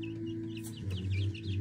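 Young silkie bantam chicks and mixes cluck and softly peep close by, with a steady low-pitched hum running underneath.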